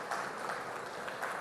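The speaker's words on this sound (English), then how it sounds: "Let's give her a big round of applause." Steady applause from a crowd at a Federal Ministry of Education event in Abuja, an even wash of clapping that holds at a constant level throughout its brief span.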